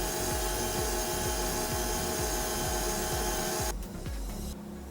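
Electric stand mixer beating devil's food cake batter in a bowl, a loud steady motor whir with a rhythmic paddle thump about three times a second, then slowing and winding down near the end.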